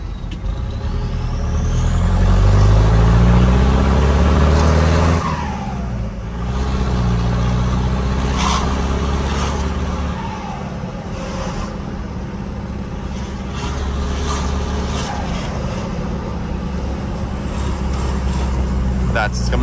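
A Ford F1000 pickup truck pulls off in second gear on a flat stretch, its engine rumbling close and steady as the revs rise and then settle into a continuous drone.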